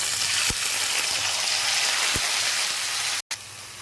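Onion paste frying in oil, left over from cracked cardamom, while cooking egg korma gives a constant hissing sizzle, close and loud, with a couple of small pops and a brief dropout near the end.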